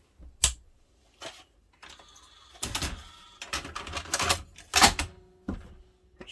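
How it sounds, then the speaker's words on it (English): A 1982 Panasonic NV 366 VHS recorder taking in a cassette, giving a series of close mechanical clunks, clicks and whirring bursts from its loading mechanism, with no talk. "Let's put the tape in, turn it on."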